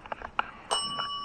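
A bell set up during a ghost hunt in a supposedly haunted house in Cadyville, New York, gives a single bright ring that hangs on for about half a second, after a few soft knocks and faint shuffling.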